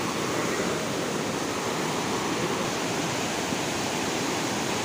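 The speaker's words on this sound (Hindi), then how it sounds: "काफी तेज बहाव होगा भाई इसका पानी का।" Fast-flowing water at Sahastradhara rushes in a dense, unbroken hiss, loud and close, like a waterfall or swollen stream after a landslide, with no other sounds standing out.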